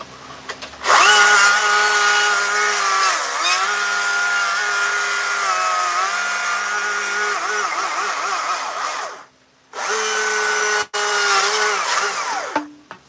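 Chainsaw cutting into wood while carving bear and moose figures, a loud close engine whine held at high revs with small dips as it bites, cutting out briefly twice near the end before restarting.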